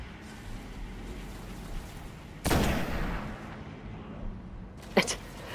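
Gunfire in the video game Destiny, heard as a single loud broadband blast midway, then a sharper, fainter shot near the end, over a steady low game rumble with no talking.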